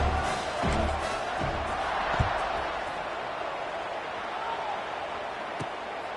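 A college football stadium crowd roars steadily as the kickoff approaches, a broad sustained wash of cheering and noise with a few thumps, heard alongside commentary.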